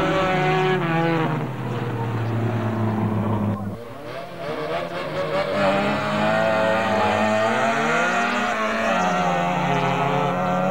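Race car on a track at a Belarusian championship track racing round, engine note rising and shifting as it passes, loud and continuous with a brief dip midway, a commentator talking over it.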